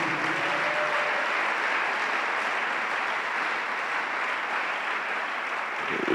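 Steady, dense applause from a church congregation welcoming a pastor, continuous and fairly loud throughout with no pauses.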